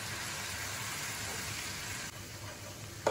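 Spice paste sizzling and frying in a pan with a little added water while cooking fish do-peyaza, a steady broadband hiss throughout with a slight drop near the end and a brief clatter at the close.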